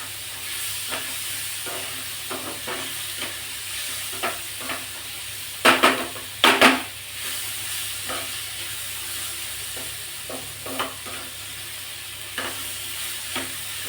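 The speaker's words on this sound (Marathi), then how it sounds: "हे एक दोन मिनटं आपण परतून घ्यायचं लसूण आणि आलं टाकल्याच्या नंतर" Garlic and ginger sauté in a pan for a prawn masala, with a constant sizzle and regular soft stirring scrapes, broken by two louder clattering strikes near the middle.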